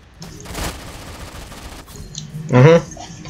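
Bursts of gunfire in a shooter video game, a brief volley early and a louder burst near the end over low background game noise.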